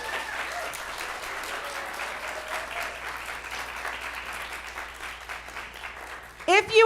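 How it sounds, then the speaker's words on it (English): Audience applause at a theater information meeting, a steady wash of many hands clapping for several seconds at moderate level, ending with a brief louder noise. "Let's start with an applause."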